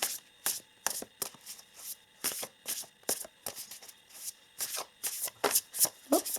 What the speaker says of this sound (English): let us pull some more oracle cards here from the Shaman Stream Oracle.